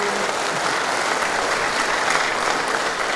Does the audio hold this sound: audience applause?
yes